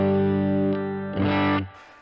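Electric guitar played through a Two Rock Classic Reverb amp with the gain cranked, a sustained distorted chord ringing loudly, then a second chord struck before it cuts off.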